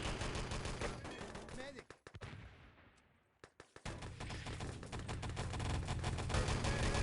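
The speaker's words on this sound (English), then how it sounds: "for these artillery strikes to go down." Artillery strike in the multiplayer shooter Enemy Territory during a tournament match: dense rapid bursts of loud blasts and gunfire, a brief lull with fading echo around the middle, then the barrage resumes heavily.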